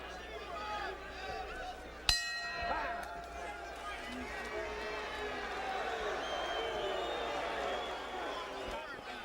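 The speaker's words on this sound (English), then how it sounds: "And the crowd, I don't need to tell you, is into this fight as we finish round number 6." Boxing arena crowd at the end of round six of a Warren Williams vs Tim Littles fight, a sustained roar of cheering and hubbub after a sharp bell strike, with a commentator talking over it.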